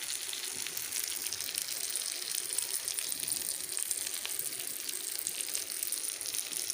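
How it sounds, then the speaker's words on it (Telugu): A big fish fries in a pan with a little oil as butter bubbles out of it, a steady broadband sizzle with no break and no talk. "లోపల బటర్ అంతా ఇట్లా బయటకు వస్తూ ఉడుకుతుంది."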